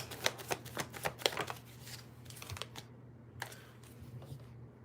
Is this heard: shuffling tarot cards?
yes